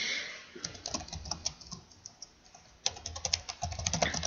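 Fast, steady keystrokes on a computer keyboard, close and fairly soft, in two bursts separated by a brief pause.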